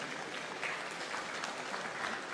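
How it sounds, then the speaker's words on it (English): Steady audience applause at a health summit, a dense wash of many hands clapping at a distance, even and continuous throughout without distinct individual claps. "I heard an applause."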